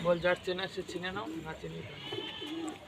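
Pigeons coo nearby in soft, repeated throaty murmurs, several calls overlapping, fairly quiet and close.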